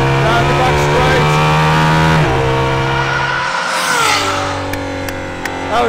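Aston Martin Valkyrie hypercar accelerating hard down a circuit straight, a loud high-revving engine scream that drops sharply at a gear change midway and then climbs again.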